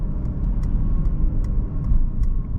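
Inside a 2024 Mercedes-Benz E350 on the move, a low steady engine and road hum rumbles close and constant, with faint high ticks and clicks scattered over it.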